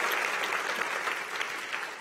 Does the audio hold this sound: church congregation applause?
yes